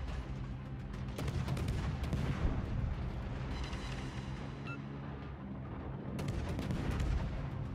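Battleship naval guns fire in a warship video game as a dense, continuous rumble of booming salvos, with a few sharper cracks standing out, and no voices.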